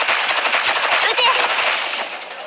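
Rapid automatic gunfire crackles loud and close in the Arknights mobile strategy game, a dense burst of shots that fades slightly toward the end.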